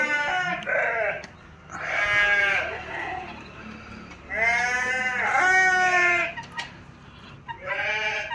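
Sheep and young lambs of two to three months bleating on a sheep farm: several close, loud wavering bleats come one after another with short pauses, overlapping at times.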